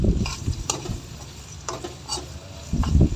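Onion frying in a pan for chicken kaldereta, sizzling steadily while a utensil stirs and scrapes in short bursts, with a louder clatter of stirring near the end.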